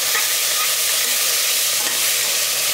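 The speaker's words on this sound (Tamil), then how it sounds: "இந்த அளவுக்கு நல்லா வதக்கிடுங்க." Onions and small tomatoes with a little torn coriander leaf sauté in a hot pan, giving a loud, dense, unbroken sizzling hiss close by, with only faint stirring underneath and no talking.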